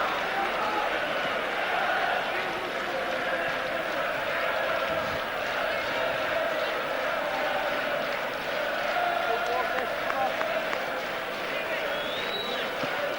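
Home football crowd at a Shelbourne v Kilmarnock Cup Winners' Cup match, a restless, steady murmur of many voices filling the stadium throughout, with a commentator talking over it.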